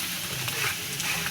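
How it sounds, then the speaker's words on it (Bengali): Spices frying in oil in a pan, a steady close sizzle with light stirring scrapes, loud and continuous without voices. "হতে থাক, এটা মশলাটা ভাজা।"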